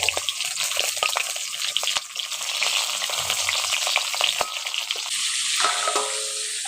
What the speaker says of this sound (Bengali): ওগুলোকে নাড়াচাড়া করে ভালো করে ভেজে নেব